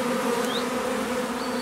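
Black honey bees buzz steadily at hive frames at a black bee conservatory in Orne, a close, continuous hum with no voices.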